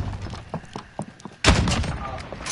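Shotgun gunfire in an online shooter game, a loud close blast about midway that rings on, after scattered lighter shots and faint game noise, with no talk over it.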